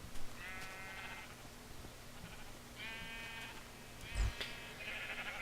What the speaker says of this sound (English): Hey, there's a stranded sheep.